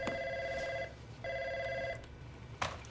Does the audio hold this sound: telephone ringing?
yes